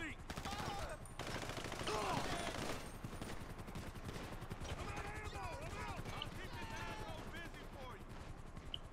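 Dense rattling gunfire in a video game, with continuous rapid shots and bursts running throughout under chirpy game sounds and a voice talking.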